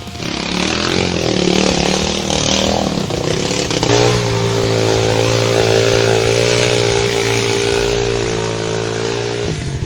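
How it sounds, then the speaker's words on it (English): A Yamaha TT600 big single-cylinder trail bike engine revs loudly and close, a throbbing thumping tone that rises briefly then holds a steady, slightly wavering pitch for several seconds, alone without talk. "A big single-cylinder engine capable of generating enormous amounts of torque from low revs"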